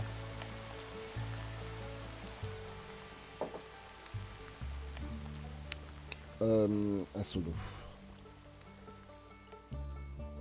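Rain falls in the Minecraft video game as a soft, steady hiss under someone speaking French, with scattered clicks and short game sounds over it.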